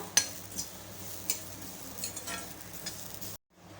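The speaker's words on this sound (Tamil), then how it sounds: "இந்த தேங்காயோட ஈரப்பதம் எல்லாமே கம்ப்ளீட்டாக போய் தேங்காய் வந்து கொஞ்சம் கலர் மாதிரி வறுபட்டு வரணும்" Grated coconut dry-roasting in a pan gives a soft, steady sizzle with occasional scrapes and taps of a utensil, close and fairly quiet, cutting off abruptly near the end.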